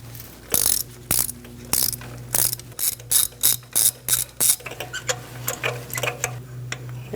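A socket ratchet with a 14mm spark plug socket and extension cracks loose and turns out a spark plug on a 2020-or-later Toyota Corolla. It gives crisp, rapid clicking in short strokes over a low steady hum.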